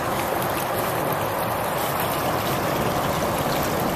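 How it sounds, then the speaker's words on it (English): Water flows steadily in a deep channel, a loud, continuous rushing wash close to the microphone with no voices. "There's quite a lot of water back here."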